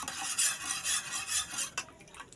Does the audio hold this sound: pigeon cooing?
no